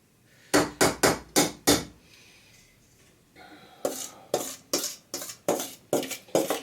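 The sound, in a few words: scraping wax out with a small scraper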